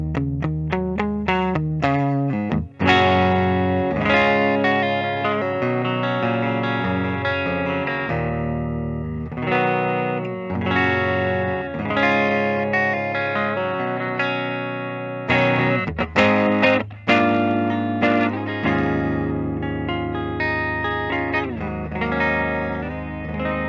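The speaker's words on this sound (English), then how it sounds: "this neck pickup is sounding extra dark, which is good for some stuff" A Gibson 1959 reissue electric guitar played on its dark neck pickup, sustained chords and single notes ringing loud and continuous for the whole stretch with no voices.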